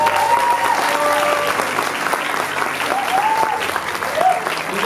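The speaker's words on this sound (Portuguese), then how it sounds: "Vamos aplaudir ela." A church congregation applauds a graduating student, sustained loud clapping from many hands with faint voices and whoops rising over it.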